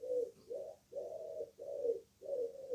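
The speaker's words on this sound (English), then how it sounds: "That's our pigeon up the chimney." A pigeon coos inside a house chimney in five soft, rounded, evenly spaced phrases, muffled and moderately close, with no voices over it.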